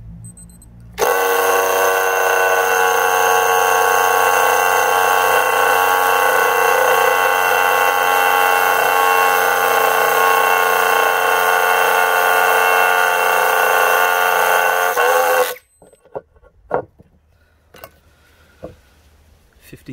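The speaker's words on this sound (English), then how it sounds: "now the entire neighbourhood knows that I'm drilling into this concrete" A rotary hammer drills continuously into a concrete paver for about fifteen seconds, loud and harsh, then stops, leaving a few scattered knocks and clatters.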